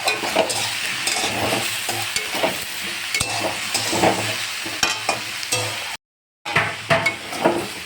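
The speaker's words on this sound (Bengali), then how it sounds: "এসবটা কিন্তু একদম ভাজা ভাজা হয়ে গেছে" Jackfruit masala with a prawn dish frying in a pan and stirred steadily, a close continuous sizzle broken by repeated spatula scrapes, cutting out for a moment near the end before resuming.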